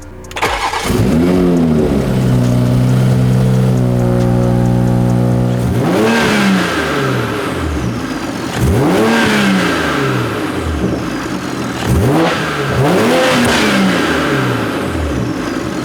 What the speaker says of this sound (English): I'm gonna start it up, give it a couple revs, and see how it sounds